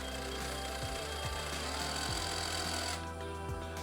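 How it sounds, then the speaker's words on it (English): A power drill drives a swivel screw through strapping tape into a color guard rifle, giving a continuous close motor whine with a few brief pitch dips as the screw bites, heard alone without talk. "use your drill"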